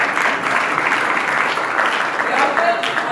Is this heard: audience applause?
yes